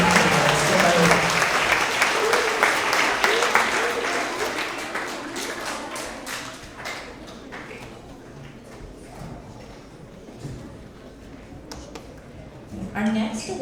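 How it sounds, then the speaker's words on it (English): Applause at an end-of-year elementary school award assembly honoring fourth and fifth graders, loud at first then gradually thinning and fading into scattered claps, with voices over it. "Let's have another round of applause for all of our fourth and fifth grade effective communicators."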